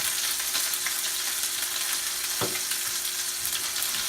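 Chicken frying in a pan, a steady continuous sizzle at close range with a brief knock of a utensil partway through and no talking.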